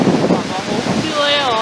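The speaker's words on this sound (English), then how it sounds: "The wind is super cold today." Cold wind gusts across the microphone on a mountain walk near Echo Point in the Blue Mountains, a loud, close rumbling buffet with a faint voice beneath it.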